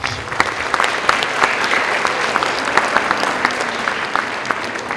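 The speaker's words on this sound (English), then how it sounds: "Please give yourselves a round of applause." Loud, steady audience applause at an elementary school concert, dense clapping from a close crowd that holds at an even level throughout without speech.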